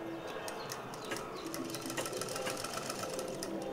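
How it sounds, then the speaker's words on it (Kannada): Sewing machine stitching the lining of a blouse back neck, a rapid, continuous mechanical rattle up close, steady throughout the short stretch with no talking. "ಟಾಪ್ ಸೈಡಿಂದ ಸ್ಟಿಚಿಂಗ್ ಮಾಡ್ಕೊಳ್ಳಿ."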